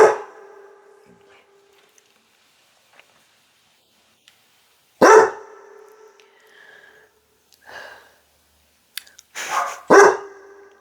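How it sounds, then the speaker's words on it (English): A dog barks in loud, separate bursts: one near the start, one around midway and a clustered pair near the end, with brief quieter yelps between and near silence in the gaps. "I'm waiting for the barking to stop."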